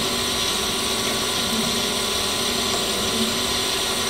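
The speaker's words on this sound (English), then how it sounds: "Now it will index backwards when you put the lever forward." Brown & Sharpe Micromaster 6 x 18 inch surface grinder with a 2 HP motor running while its head indexes, a steady loud machine whir and hum with constant texture throughout.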